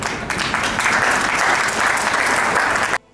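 Dense audience applause in a hall fills nearly three seconds at steady strength, then cuts off abruptly.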